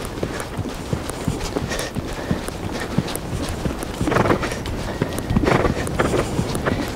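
Horse hooves clip-clop in a steady, moderately close rhythm during a riding lesson, the beat quickening into a faster gait partway through, with no talking.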